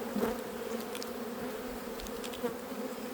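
Honeybees hum in a steady, dense drone from an opened hive during a spring inspection, close and continuous with no voices.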